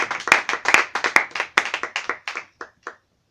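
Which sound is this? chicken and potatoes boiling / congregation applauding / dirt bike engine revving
congregation applauding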